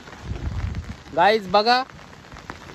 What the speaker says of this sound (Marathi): कंटिन्यू 3 ते 4 दिवस झाले पाऊस पडतोय.